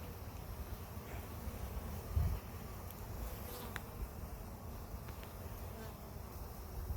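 Honeybees buzz around a hive entrance in autumn, a steady faint insect drone with a few closer passes of individual bees flying in and out, no voices.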